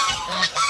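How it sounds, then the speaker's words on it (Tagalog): A single short honking call from pure Indonesian Muscovy ducks kept on a backyard farm, loud and close, with a slight break in the middle. "Muscovy duck"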